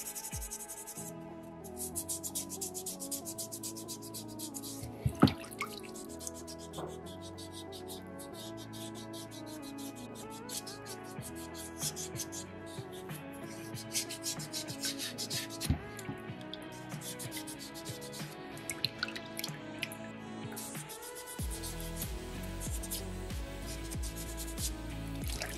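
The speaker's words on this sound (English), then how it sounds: "So I'm just gonna leave it and just sand the top of it." Sandpaper rubbing over the top of a soft soapstone carving from a small beaver kit, a steady scratchy rasp going on and off for the whole stretch, close and moderately loud, with a few sharper scrapes and knocks.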